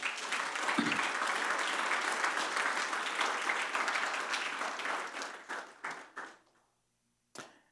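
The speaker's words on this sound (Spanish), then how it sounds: "Dame un aplauso a Dios por eso." A church congregation applauds during a sermon, a full steady burst of clapping that thins into scattered last claps and stops, followed by a brief sound near the end.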